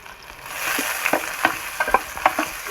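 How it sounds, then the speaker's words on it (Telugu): Onions fry to golden for a mutton curry, a steady sizzle in a pan broken by repeated scraping stirs of a spoon, close and fairly loud. "ఈ గోల్డ్ కలర్ వచ్చేలాగా బాగా ఫ్రై చేసుకున్నాం"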